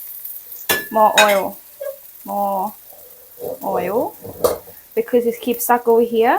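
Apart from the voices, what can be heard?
Thai roti frying in oil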